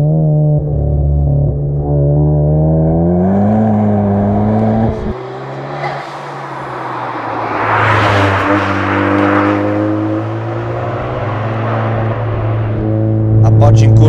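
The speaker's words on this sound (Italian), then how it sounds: "Il motore sale lineare, c'è la botta del turbo, la sento, l'avverto, è piacevole, ma poi sopra i 5 continua a tirare." Ford Focus ST turbo engine revving hard under acceleration, a strong rising engine note that drops at a gear change then climbs again, loud and close with someone talking over it.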